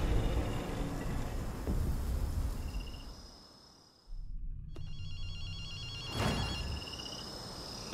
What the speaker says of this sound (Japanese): 電話の音が聞こえないか。